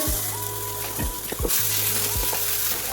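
Garlic sizzling in hot ghee in a pan, a constant frying hiss broken by several sharp utensil clicks and scrapes, close and moderately loud, with no talking.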